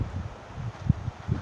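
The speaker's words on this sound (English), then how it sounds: "That wind is blowing so hard right now, you can see the tree." Strong storm wind gusting through a backyard tree in Florida, a close, rumbling low buffeting with rustling and bursts of wind noise hitting the microphone.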